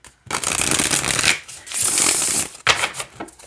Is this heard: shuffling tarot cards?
yes